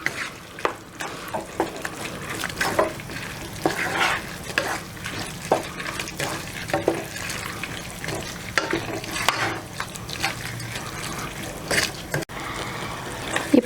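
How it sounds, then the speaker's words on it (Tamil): Mutton keema with cabbage curry is stirred in a pan, giving repeated close scraping strokes and wet squelching over a soft sizzle, with irregular bursts throughout. "இப்போ நல்லா மிக்ஸ் பண்ணி விட்டுட்டு"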